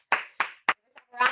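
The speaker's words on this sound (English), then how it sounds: "A round of applause." Short bursts of hand clapping at the close of a fitness workout, four or five sharp claps spaced unevenly over about a second, fairly close and moderately loud, with no talking.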